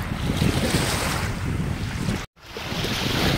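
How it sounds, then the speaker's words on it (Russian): Waves splash and wash along the shore of Lake Balkhash, loud and close in a continuous rushing surf mixed with wind buffeting the microphone, with a brief dropout near the end. "Балхаш плещется."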